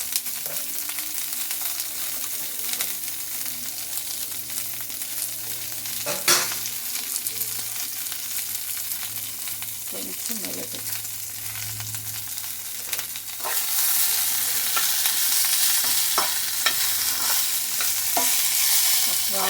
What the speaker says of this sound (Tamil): கொத்தமல்லி வெங்காயம் அதை போட்டு நல்லா வறுத்து எடுத்துக்கலாம்